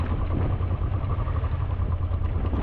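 A Honda XL700 motorcycle engine runs steadily close by on a windy forest service road, a low, even idle-like rumble mixed with wind noise.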